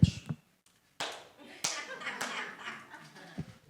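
Scattered claps from a church congregation at a Sunday morning service, a few isolated sharp hand smacks after a short silence, with talking mixed in.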